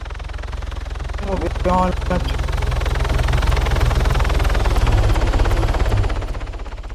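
Helicopter in the Arma 3 military video game, a steady rotor chop and engine drone filling the scene, close and loud throughout, with a short burst of other game noise near the start.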